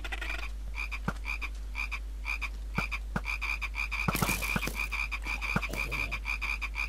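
Scorpion mobs in the Minecraft video game, modded Pixelmon survival, croak in a steady, repetitive chorus of short rhythmic calls, with occasional sharper clicks and game noises mixed in, no talk.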